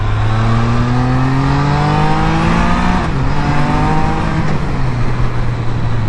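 A Can-Am Spyder F3 three-wheeler's engine climbs loudly in pitch while accelerating, drops sharply in a smooth downshift midway, then pulls up again, heard close and continuous.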